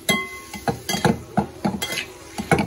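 A spoon stirs the potato filling for batata vada in a metal pan, making repeated close scrapes and clinks in an uneven rhythm of about a dozen strokes, with faint sizzling beneath and no voices.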